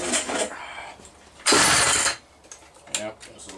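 A McCulloch 300 chainsaw catches with a loud, roaring burst of about half a second after some quieter mechanical clatter and rattling, then drops back to lighter knocks and a brief sharp pop near the end.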